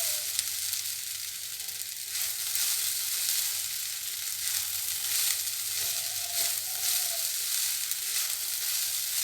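Sabudana pulao sizzling and frying in a pan while being stirred, a steady continuous hiss throughout with occasional soft scrapes of the spoon, close and fairly loud with no voices.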